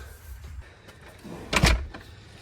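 A door bottom sweep slides onto the edge of a door slab during installation, giving soft scraping and rubbing followed by a short louder plastic scrape and thump, close by, with no voices.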